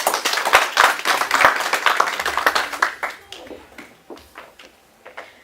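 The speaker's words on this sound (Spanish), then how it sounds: "para quien pido un fuerte aplauso también" An audience at a public presentation in Tlaxiaco, Mexico, claps for the next presenter, full and lively at first, then thinning to a few scattered claps as it fades out.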